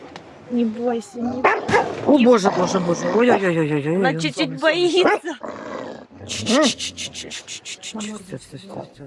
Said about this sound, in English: Look, here's the other dog.